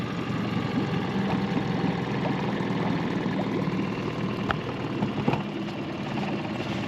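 A new outboard motor on a small boat idles steadily after starting, a low, even putter running throughout at moderate loudness with a few faint clicks and knocks, no talking.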